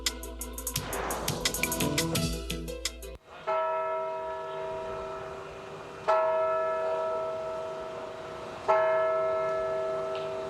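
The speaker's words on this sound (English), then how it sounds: "The bells of St. Louis Cathedral ring along empty streets in the French Quarter these days." After a brief stretch of other sound, the bell of St. Louis Cathedral in New Orleans' French Quarter rings out over empty streets in slow, resonant strikes, each tone lingering and fading before the next.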